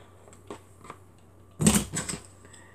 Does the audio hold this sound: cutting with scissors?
yes